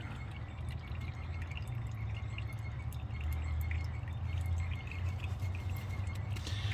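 Transmission fluid drips irregularly from leaking transfer case adapter seals on a 1986 Chevy K30 truck, in light, faint ticks over a steady low hum, with no voices.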